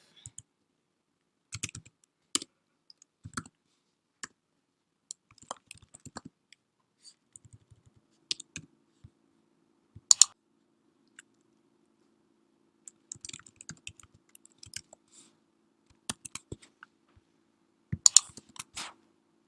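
Bootstrap CSS code typed on a computer keyboard: quiet, close key clicks in irregular bursts and short runs separated by pauses, with a few sharper taps, no talking.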